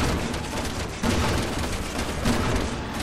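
Steady, muffled gunfire in Resident Evil 6 blends into a dense, continuous wash of shots and booming impacts over a noisy backdrop, with no voices.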